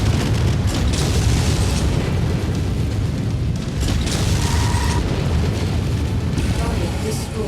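Missile barrages exploding in the mech combat video game MechWarrior, a loud, continuous roar of overlapping booms and blasts with rumbling low end and no let-up.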